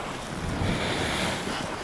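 Waves slap against the bow of a small kayak on open water in a continuous rushing wash, with wind buffeting the microphone close up and no voices.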